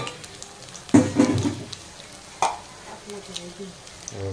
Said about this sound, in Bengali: পাতলা করে ভাজতেছে